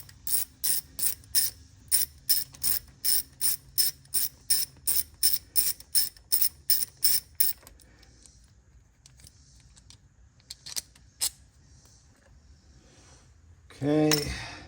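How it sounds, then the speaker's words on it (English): A ratchet wrench clicks rapidly in a steady run of about twenty sharp, close ticks as it backs out an 8mm brake sensor bolt on a Mercedes GLC-43, then softer clinks of tool handling and a brief louder clatter near the end. "there's a bolt right here holding on the sensor socket. So let me go get I believe it's an 8mm, and take that off."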